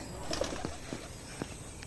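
Racing pigeons at a home loft give a few soft, low coos and rustles, faint and somewhat distant, with no talk.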